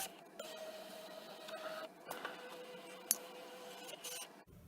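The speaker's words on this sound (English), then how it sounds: "I'm going to repeat the background scan process by hitting the scan icon" A Brother ScanNCut cutting machine scans its mat background, giving a steady mechanical whir with soft motor tones, a few clicks and one sharp tick. It is fairly quiet and runs alone until it stops abruptly near the end.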